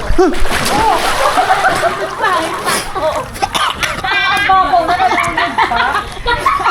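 People splash and slosh in water amid excited chatter and laughter, with bursts of splashing close by.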